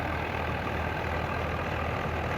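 A Swaraj 855 tractor labours under heavy load while powering a straw-chopping machine in green stalks, a steady close engine drone that stays loud and unbroken throughout.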